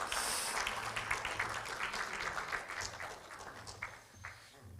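Attendees at a memorial gathering clap in a moderate, steady burst of scattered applause that fills the room, then gradually thins and fades toward the end.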